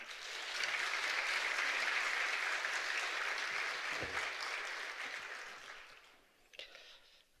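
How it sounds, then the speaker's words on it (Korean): A church congregation at an afternoon service breaks into sustained applause to welcome a guest speaker, a dense roar of clapping that swells, holds steadily for several seconds, then tapers off near the end. "나오실 때 우리 큰 박수로 환영하겠습니다."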